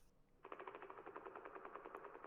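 A failing motorboat propeller, a sound effect in the game Kentucky Route Zero, gives a rapid, even stutter of sputtering bursts, like machine-gun fire, that starts suddenly and continues for about two seconds, moderately close, with no speech.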